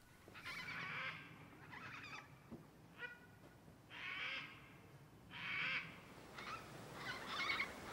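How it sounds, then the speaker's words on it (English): Raucous screeches from a large flock of Major Mitchell and sulphur-crested cockatoos at a campsite in drought-hit Culgoa Floodplain National Park, coming in scattered bursts at a moderate distance. "This large flock of Major Mitchell and sulphur-crested cockatoos made an entrance while I was setting up camp."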